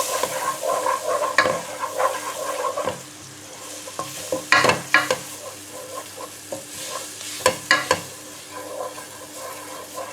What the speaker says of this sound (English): We're now going to add the flour and also the spring onions, and mix them all together.